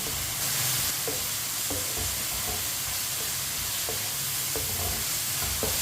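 Spinach cooks in a pan with a constant sizzle and hiss, interrupted by occasional soft clinks and scrapes of stirring, steady and close with no talking.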